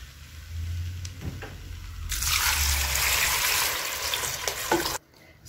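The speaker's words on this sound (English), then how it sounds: "So I've finished putting my water." Water poured into a pot of rice cooking for beef pilau, a gushing, sizzling splash that rises after a couple of seconds of soft stirring and cuts off sharply near the end.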